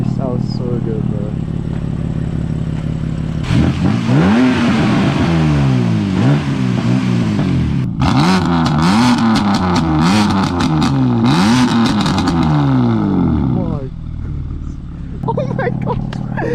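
A tuned BMW M3 F80 making about 550 wheel horsepower revs hard from inside the car, its engine note climbing and falling in repeated sweeps, loud and close, with people talking excitedly over it.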